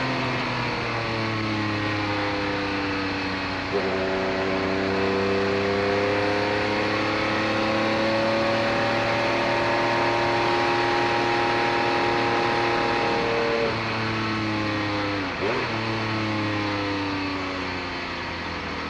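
A 1990 Porsche 962C and other race cars on a circuit, with a loud, sustained engine drone whose pitch climbs and falls through gear changes as cars run past close by, with no talk over it.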